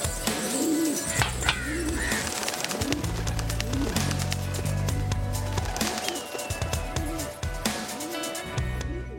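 Racing pigeons kept on a Pakistani rooftop give soft, low, throaty coos in repeated bursts, fairly close, with some faint chirps and background noise between them.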